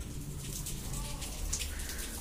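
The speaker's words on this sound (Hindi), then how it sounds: "मैं आपको बारिश दिखाता हूँ कितनी तगड़ी हो रही है" Heavy rain pours down outside in a continuous, dense hiss with a steady roar beneath it, filling the whole scene at a constant level.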